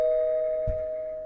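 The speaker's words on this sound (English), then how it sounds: "why does it sound like the doorbell is coming from the damn bathroom and not the front door?" Doorbell chime inside the video game Ghost of Tomorrow: a single steady, sustained electronic tone holds clearly through the whole moment, with a soft low thump partway in.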